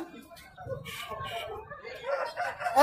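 A rooster crows amid clucking fowl and overlapping chatter of people nearby at a busy, noisy rooster market.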